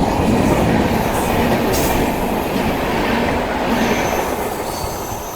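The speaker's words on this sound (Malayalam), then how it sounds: "അങ്ങനെ നമ്മുടെ കേരള കടന്നു പോയിരിക്കുകയാണ് കൊരട്ടിയങ്ങാടി" The Thiruvananthapuram–New Delhi Kerala Superfast train passing at Koratti Angadi in the evening, a loud, sustained roar and rattle of wheels with brief squeals, close by and steady before easing slightly.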